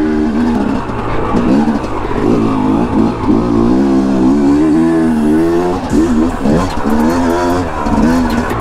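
A Yamaha YZ250 two-stroke dirt bike runs on an enduro trail near American Flag Mountain in Taylor Park, its engine droning and revving steadily and loud up close throughout, with the pitch rising and falling as the rider works the throttle.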